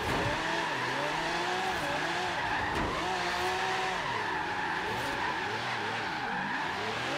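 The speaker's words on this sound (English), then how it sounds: "Drifting next to normal cars is about the greatest thing ever." Car tires skidding and squealing during a drift in Forza Horizon 3, a continuous loud screech with wavering pitch over steady engine roar, sustained throughout without talk.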